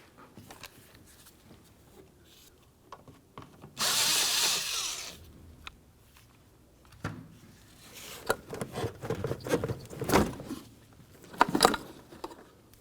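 A hose clamp on the air intake of a 2002–2005 Ford Explorer being loosened with a power driver, heard in short whirring bursts and ratcheting clicks, one longer burst near the start and a denser cluster toward the end, close and moderately loud.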